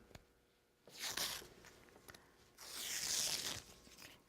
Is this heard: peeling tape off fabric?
yes